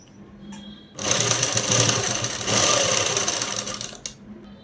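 Sewing machine stitching a collar on jeans, starting with a click and then running in a loud, fast continuous rattle for about three seconds before stopping.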